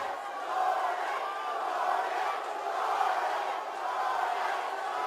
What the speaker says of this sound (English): You can hear Jordan chants from the crowd.